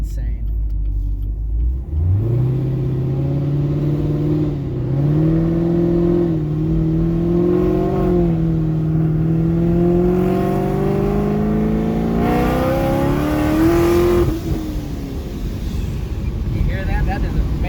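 A 1000HP ProCharged Chevrolet Camaro SS pulls in with a deep, loud engine rumble that rises and falls through several throttle blips and revs, close to the microphone with wind buffeting.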